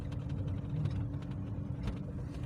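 A car drives along a road toward Kherson, a low steady engine drone and road rumble heard from inside the cabin, fairly quiet and even with no talk.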